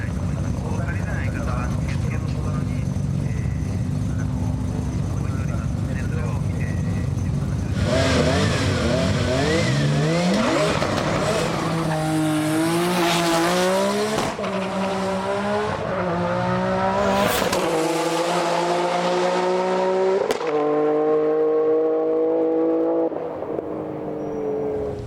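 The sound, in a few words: V8 drift car with turbos revving, tires squealing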